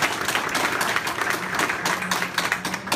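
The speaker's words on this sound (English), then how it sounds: "a round of applause for her hard work as well" An audience applauds a woman thanked for her hard work at a speaking event, a sustained fairly close patter of many hands clapping at a steady level with no one talking.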